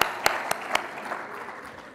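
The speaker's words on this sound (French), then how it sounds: "ça mérite les applaudissements pour Dakar." Applause for Dakar at the closing ceremony of an African place-marketing competition: a few sharp, evenly spaced claps near the start, then a softer, scattered patter of a crowd clapping that fades away.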